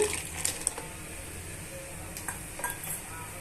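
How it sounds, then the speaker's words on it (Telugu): Peanuts and roasted gram dal hit hot oil in a pan, giving a steady sizzle with light clinks and rattles of the nuts and utensil. "ఆయిల్ బాగా కాగిన తర్వాత పల్లీలు పుట్నాల పప్పును యాడ్ చేసుకోవాలండి"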